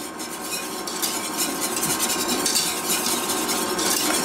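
A spoon scrapes and stirs a caramel cream dessert in a pan with fleur de sel, producing a continuous, close, fairly loud scraping and swishing texture with no voices over it.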